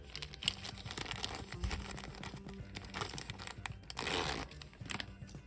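A perforated plastic bag from a Pop Mart Barbie figure box is torn open and pulled out, giving close, continuous crinkling and tearing with a brief louder rustle near the end, no voices.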